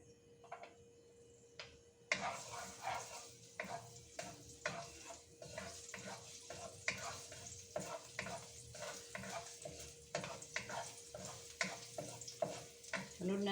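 Chopped garlic sautés in hot cooking oil for a chicken sinampalukan dish. A steady, close sizzle bursts in after a quiet start, with frequent light ticks and scrapes from stirring throughout.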